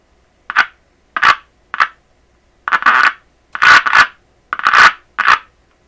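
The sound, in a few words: repaired transistor radio making sound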